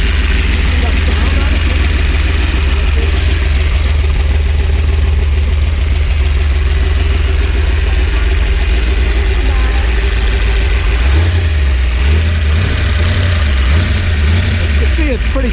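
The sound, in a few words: 327 stroker engine idling on a test stand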